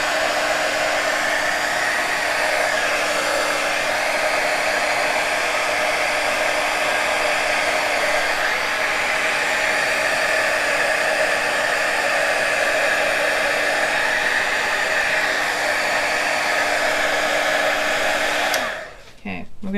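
Hair dryer blowing over a wet alcohol ink painting, a loud steady close whoosh running unbroken for nearly twenty seconds before switching off at the end.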